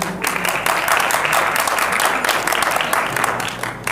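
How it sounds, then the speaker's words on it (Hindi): Applause from an audience at a stage event in Bihar honoring the film Jhijhiya, a dense, steady crackle of many hands clapping that holds at full strength for the whole stretch. "ताली बजानी चाहिए"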